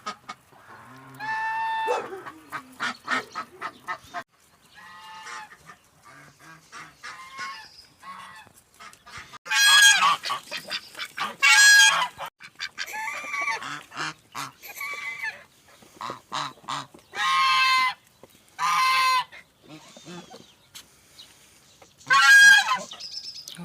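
Geese honk repeatedly in loud, harsh bursts, some close and some farther off, with short quiet gaps between calls, in a village in the morning.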